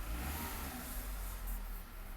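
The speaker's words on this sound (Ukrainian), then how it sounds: "трішки погарчали, погазували" A Skoda Fabia engine with a cylinder misfire revs under throttle, giving a steady, rough mid-pitched drone with low rumble, close and continuous, with a slight dip near the end and no voices.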